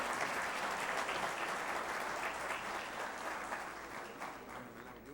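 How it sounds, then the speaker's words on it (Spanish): Loud, sustained applause from a crowd, steady clapping throughout with a slight fade toward the end. "Habrá aplausos fuertes, muy fuertes"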